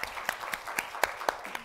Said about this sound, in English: I really just want us to give a round of applause.